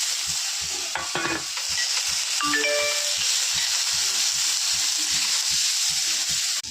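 Onion, cumin and raw green tomatoes sizzle and crackle in a hot pan while a utensil scrapes and stirs in a repeated rhythm, close and steady, with a few clinks.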